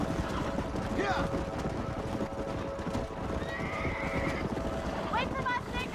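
Horses whinny and neigh amid steady hoofbeats during a canyon horse drive in Red Dead Redemption, with a couple of clear whinnies standing out over a constant, busy background.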